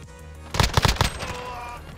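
Rapid M14 rifle fire in a video game: a quick cluster of several loud, punchy shots packed into half a second, then a ringing decay over quiet background.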